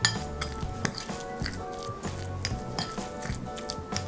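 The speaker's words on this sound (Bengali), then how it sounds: "তেল আর নুনটা ভালো করে মিশিয়ে নেব।" Mustard oil and salt being mixed into a banana flower paste in a bowl, with a run of clinks and scrapes of a utensil against the dish, close and fairly quiet, with no talking.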